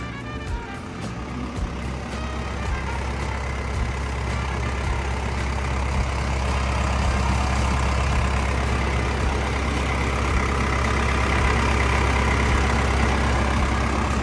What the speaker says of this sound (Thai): เปิดเครื่องยนต์ให้ดูนะครับ